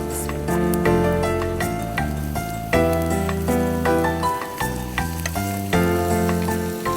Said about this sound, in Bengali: তেলটা গরম হয়ে গেছে, আমি এখন পেঁয়াজ দিয়ে নিচ্ছি